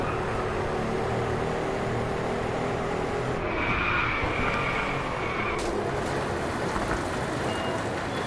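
Racing car in the Driveclub video game driving steadily with a continuous engine and road roar, a tire-skid squeal rising briefly in the middle, heard alone without talk.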